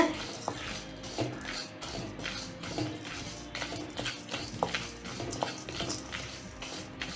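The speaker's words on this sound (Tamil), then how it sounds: "நம்ம எடுத்து வச்சுருக்கிற இந்த பருப்புகள்லாம் வந்து போட்டு வறுத்துக்கலாம்" Mixed lentils are dry-roasted in an empty kadai over a medium flame. A spoon stirs them, making soft scraping, rustling and light taps against the pan. The sounds stay fairly quiet and steady.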